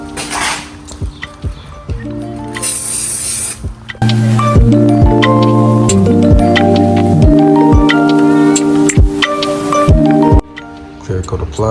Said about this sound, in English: Time to apply the clear coat. Again, we're going with Rust-Oleum 2K clear.